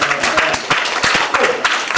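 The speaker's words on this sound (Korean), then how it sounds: "박수" Audience at a Korean history lecture claps in a brief burst of applause, dense overlapping claps at close range with no speech over it.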